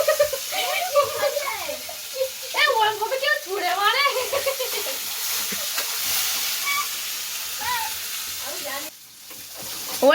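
Moong dal frying in a pan for khichuri, heard as a soft sizzle and stirring beneath frequent close conversation between people in a home kitchen.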